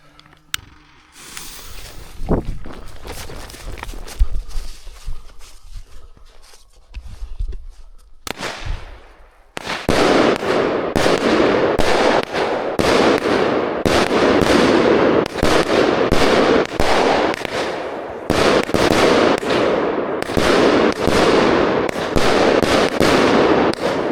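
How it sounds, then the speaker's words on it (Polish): A Piromax Titanium Salut firework launcher fires a long rapid barrage of loud cracking reports, preceded by a fizzing fuse and a quieter lull, then bangs following one another in quick succession for about fifteen seconds outdoors. "Odpalamy Titanium Salut od Piromaxa."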